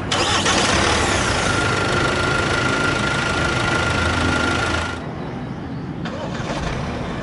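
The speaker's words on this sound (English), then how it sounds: "hit this engine start stop button to fire up the engine." A 2023 Kia Sorento 2.2 CRDi diesel fires up at the push of a start button, a loud close cranking catch settling into a steady idle hum that drops in level after about five seconds.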